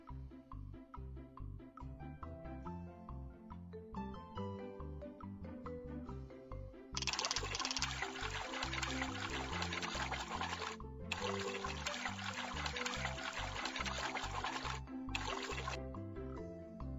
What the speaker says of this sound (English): Let's fill the fish pond!